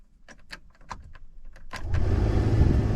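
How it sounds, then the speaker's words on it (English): Inside a 2001 Dodge 1500 after an ignition switch replacement, a few sharp clicks and rattles sound first, then the power window motors start up in a steady whirring hum that carries on to the end. "And the windows going up and down."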